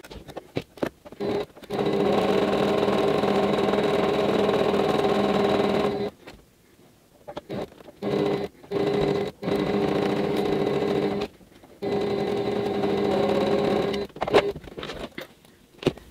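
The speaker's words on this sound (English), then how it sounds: "We're going to do a chain stitch." A sewing machine running a chain stitch through quilt fabric for a tulip block, whirring in several steady runs of a few seconds each with short pauses and quiet handling noises between, close by.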